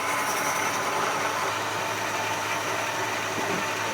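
A 1956 Chevy engine idles steadily in gear, a constant mid-low mechanical hum with a broad hiss layered over it, close and unchanging for the whole stretch.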